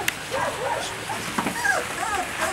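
Small puppies whimpering and yipping in thin, rising squeaks, with faint low growls, close by and repeated over a couple of seconds.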